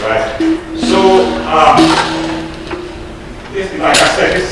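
Keyed board instrument fitted with bottle caps, plucked tones ringing with buzzy metallic rattle and a few woody knocks, mixed with talking voices.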